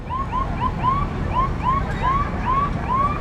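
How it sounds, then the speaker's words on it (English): A police siren chirps repeatedly in short rising whoops at a drag racing event, steady and moderately distant with no talk over it. "if you heard the chirping in the background, it's the police"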